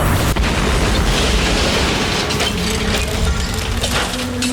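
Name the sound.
chameleon exploding through glass-domed ceiling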